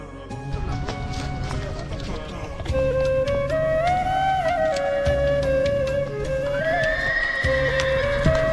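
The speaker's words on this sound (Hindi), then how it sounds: "घोड़ा आवाज का।" A horse neighs loudly and at length during a horse ride in Ooty, its whinny rising and wavering over rhythmic hoof clip-clops, with people talking nearby.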